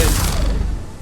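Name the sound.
pistol firing in video game Mass Effect 3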